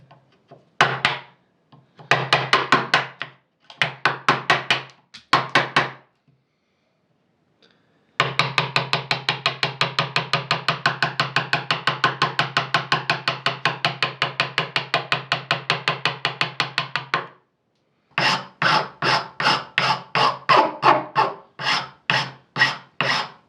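A hand rasp shapes the wooden handle of a bow saw in close, loud, rhythmic strokes, first in short bursts, then in a long fast run, then in a final set of separate pushes, with brief pauses between and no voices.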